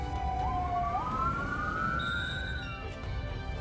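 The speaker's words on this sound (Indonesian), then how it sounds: "Beberapa ambulans juga didatangkan ke lokasi." Ambulance sirens arrive at the site of a bioethanol storage tank explosion, a loud rising wail with a second high tone joining in over a rumbling crowd and traffic background.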